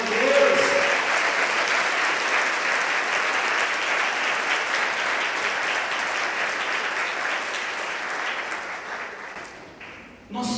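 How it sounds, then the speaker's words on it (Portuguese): A church congregation applauds during a service, with sustained, dense clapping from many hands that stays loud and even for about ten seconds before tapering off and giving way to a brief voice at the end. "Aplauda o Senhor, glória a Deus."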